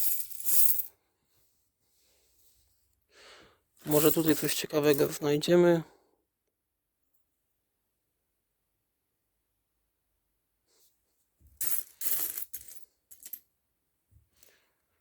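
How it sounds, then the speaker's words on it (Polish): A batch of coins and tokens is poured out, producing a loud metallic jangling cascade lasting about two seconds, followed by a quieter second clatter later, with brief speech at the start. "Wysypiemy sobie drugą porcję monet."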